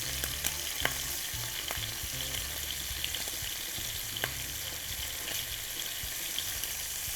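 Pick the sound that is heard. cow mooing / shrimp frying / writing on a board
shrimp frying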